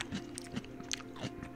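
Ginger being bitten and chewed: a few close, distinct crunches spaced irregularly over a moment, with no talking.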